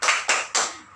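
A school class does a rhythmic 'tepuk semangat' clap in three sharp, evenly spaced bursts of many hands clapping together within one second, close and crisp.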